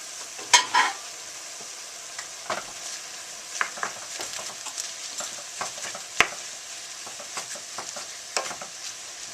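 Meat, Chinese cabbage and tomatoes fry in a pan for Tibetan shaptse, a soft steady sizzle broken by scraping stirs and an occasional clink, close by with no speech.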